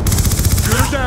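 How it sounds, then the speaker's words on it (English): Rapid, continuous minigun fire from a hostile Death Machine in Black Ops 2, a dense, loud rattle of shots for the whole stretch with no pauses. "hostile death machine spinning up"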